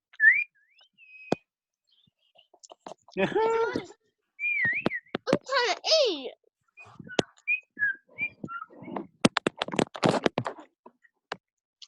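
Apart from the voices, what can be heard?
pet budgies chirping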